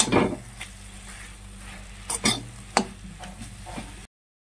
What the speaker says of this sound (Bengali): ঢাকা তুলে এখন রসুন আর হলুদটাকে মিশিয়ে নেব